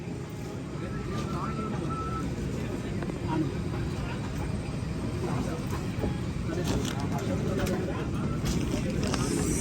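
A steady, unbroken engine drone fills the cabin of an AirAsia airliner, with faint voices and small rustles of passengers under the constant roar.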